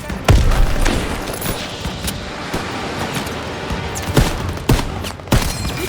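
Gunfire in the World War II shooter Call of Duty WWII, with sharp shots and bursts cracking irregularly over a constant rumbling battlefield din, several loud close reports standing out among distant firing.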